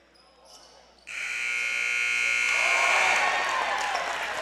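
A loud, steady electronic buzzer sounds at the end of a quarter in a Mancelona vs Central Lake high school basketball game, holding for several seconds over gym crowd noise.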